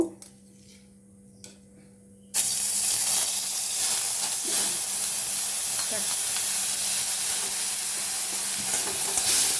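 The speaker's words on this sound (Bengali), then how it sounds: "এবার এখানে আমি আদা রসুনের পেস্টটা একটু কড়াতে ভেজে নেব।" Ginger-garlic paste hits hot mustard oil in a kadai, bursting suddenly into a loud, steady sizzle and hiss that holds throughout after a few quiet seconds with faint clinks.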